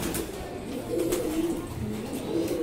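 Racing pigeons coo softly in repeated low murmuring calls, close by in a loft, with faint background noise and no talk.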